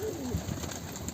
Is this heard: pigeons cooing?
yes